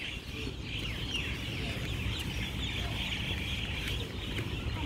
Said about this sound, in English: can you hear the bird sound?